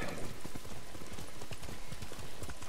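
A horse's hooves clip-clop steadily in the video game Ghost of Tsushima, forming a quick, even rhythm of close hoofbeats over a light wash of rain.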